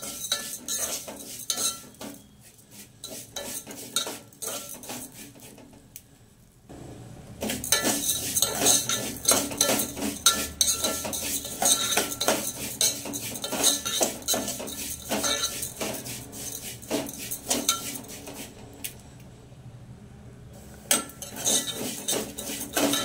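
A utensil stirs brown vermicelli roasting in ghee, scraping and clinking against the pan in a busy, irregular rhythm, close and fairly loud, with a near-silent pause early on and a soft frying hiss underneath.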